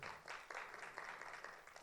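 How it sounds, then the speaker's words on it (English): An audience applauds at a lawyers' association debate for the Law Society of Kenya council elections, a steady crackle of many hands clapping that runs through the moment without pause. "A round of applause for Ms."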